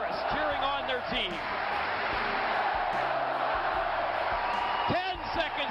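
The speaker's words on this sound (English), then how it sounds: "Fans in chorus cheering on their team." Hockey fans at a Fort Wayne Comets home game against Toledo roar and cheer in chorus, a loud sustained crowd wash with an announcer talking over it.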